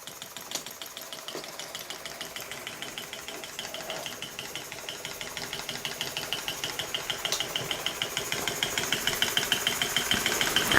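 A small electrically driven model steam engine runs slowly and steadily, giving a close, even stream of light mechanical chuffs and ticks whose rhythm grows gradually louder and a little quicker, with no voices over it.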